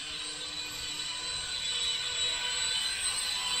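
A small XVB Force Flyer two-channel infrared RC helicopter flies near full throttle with a steady, high-pitched motor and rotor whine that holds evenly throughout, with no voices.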